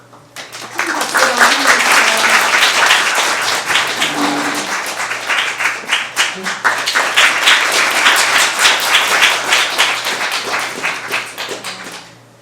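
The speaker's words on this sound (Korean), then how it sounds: "큰 박수로" A crowd at a book concert applauds loudly and continuously, dense clapping swelling after a quiet start and fading off at the end, with a low steady hum underneath.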